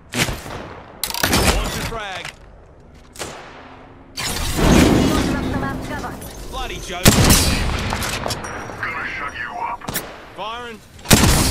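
Bursts of explosive fire and booming impacts from a cluster bomb strike in the video game Apex Legends, several loud cracks spread across the clip, with a voice talking between them.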